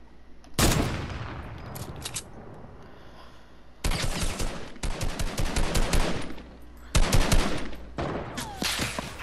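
Bursts of rapid automatic gunfire from a Fortnite match, several loud volleys separated by quieter gaps, with sharp single shots mixed in, heard close with no talking.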